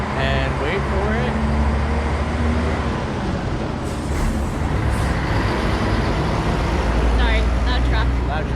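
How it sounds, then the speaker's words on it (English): A loud truck rumbles past nearby in a village in Istria, its heavy low engine roar filling the scene, with a hiss of air brakes and traffic noise around it. "Sorry, loud truck."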